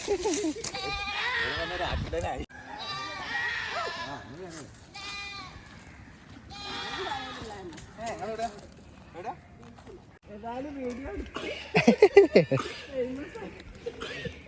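A goat bleats repeatedly, wavering cries close by, mixed with people talking and chuckling; a burst of louder bleats comes near the end. Lakshadweep.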